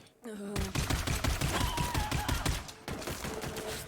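Rapid gunfire from a weapon in Borderlands 3 rattles in a dense, fast burst of repeated shots lasting several seconds, loud and close, with a brief pause before the firing resumes.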